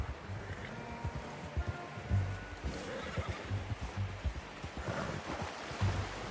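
A horse in Red Dead Redemption 2 snorts and whinnies amid low rumbling hoof clops and ambient game noise, moderately quiet and close, with no speech.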